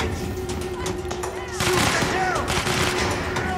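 Video game gunfire rattles in rapid bursts that swell louder partway through, dense and continuous, with a voice talking over the shooting.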